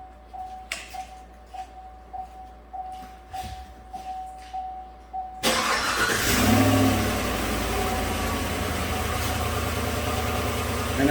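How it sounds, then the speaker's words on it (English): A 2015 GM truck with the 5.3 GDI engine cranks and fires after a run of soft ticking clicks, then settles into a steady, loud, even idle that continues to the end. "Going to start and idle the engine."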